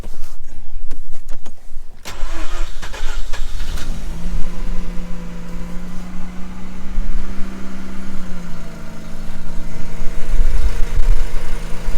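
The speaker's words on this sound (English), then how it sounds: "I'm just going to get the keys and we'll start it up." A 2005 Mazda RX8 rotary engine cranks and fires up after some clicks and handling noises, then settles into a steady loud idle with a smooth hum that shifts slightly as it warms.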